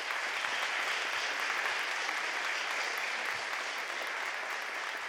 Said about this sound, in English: a round of applause for all that.